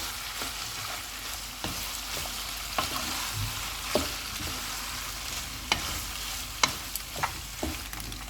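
Pasta is stirred and mixed into spicy chicken in a hot pan, giving a soft continuous sizzle broken by scattered scraping and clinking taps, with no voices.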